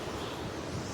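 Strong ocean surf at Kaanapali Beach on Maui roars as a continuous broadband wash, loud and close, with wind buffeting the microphone throughout the brief moment.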